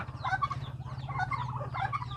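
Several native free-range chickens cluck softly in short bursts while eating forage, over a steady low hum, close by and continuous.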